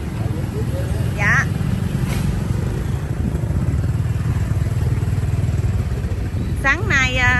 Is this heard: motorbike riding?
yes